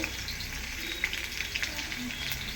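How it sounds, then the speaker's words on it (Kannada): Crushed garlic and mustard seeds fry in hot oil in a pan, giving a steady close sizzle with small crackling pops throughout. "ಎಣ್ಣೆ ಕಾದಿದೆ ಸ್ವಲ್ಪ ಸಾಸಿವೆ ಹಾಕಿದ್ದೀನಿ ಈಗ ಒಂದು ಐದಾರು ಎಸ್ಲು ಬೆಳ್ಳುಳ್ಳಿನ ಈ ರೀತಿ ಜಚ್ಕೊಂಡಿದ್ದು ಇದ್ದೀನಿ"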